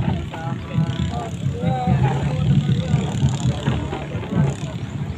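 A motorboat engine drones on a bangka during a bancathon boat race in Naujan, Oriental Mindoro, the low motor sound running steadily under nearby talking and crowd noise.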